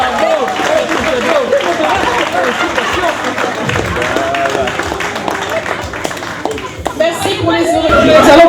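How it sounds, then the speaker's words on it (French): Gala audience applauding an award presentation, a dense steady wash of clapping with crowd murmur running the whole time and swelling slightly near the end. "On applaudit, monsieur le maire."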